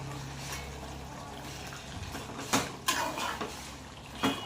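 Chicken curry being stirred in a pot, a quiet wet churning with sharp metallic clinks of a spoon against the pot rim at irregular intervals, heard alone.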